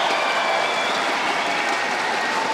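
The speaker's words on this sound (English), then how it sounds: "No prizes or guesses as to who that round of applause was for." Crowd at a badminton mixed doubles final in Glasgow, Scottish Open Grand Prix, giving a steady wash of applause that stays even and continuous throughout, heard from a distance like a hall-wide roar.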